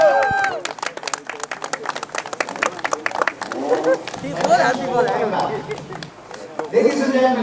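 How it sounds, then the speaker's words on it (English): Scattered clapping from a crowd at a national racing championship prize ceremony in Kari, mixed with loud talk over a PA, with busy, uneven crowd noise throughout. "let's give this kid a big round of applause"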